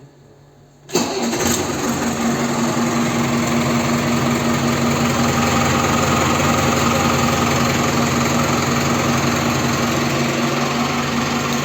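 After a second of quiet, a 2021 New Holland TT4.75 tractor engine cranks and fires, then settles into a steady, loud, continuous idle for the rest of the clip.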